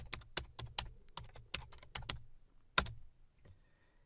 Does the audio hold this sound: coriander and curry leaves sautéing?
no